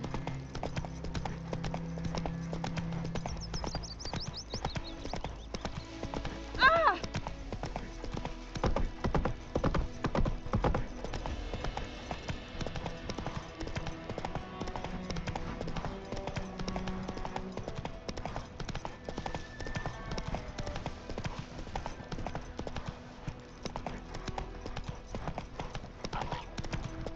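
Roach, the horse in The Witcher, gallops with a steady, close clip-clop of hooves that runs the whole time under game music and ambience, with a brief louder burst partway through.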